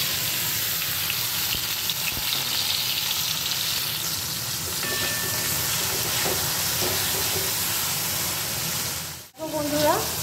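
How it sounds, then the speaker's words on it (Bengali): Green chillies and chopped tomatoes fry in hot oil with black cumin, giving a steady close sizzle and hiss throughout, with a brief dropout near the end. "আর টমেটোও ভাজা হয়ে গেছে, নরম হয়ে গেছে"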